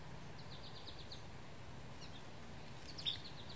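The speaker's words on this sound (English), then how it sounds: "Do you hear that little Carolina wren calling?" A Carolina wren calls outdoors in short, faint, high chirps that come in small clusters, heard distantly against a quiet background.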